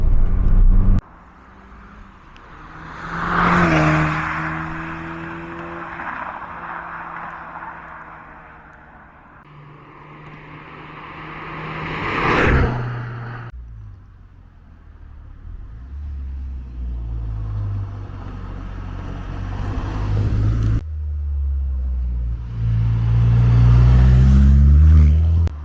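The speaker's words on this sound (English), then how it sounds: "see how the car drives around the lanes." A Volkswagen Polo GTI, a repaired salvage car, drives along country lanes. The engine rises and falls through several revving pulls with gear-change breaks between them, and it grows louder and deeper near the end.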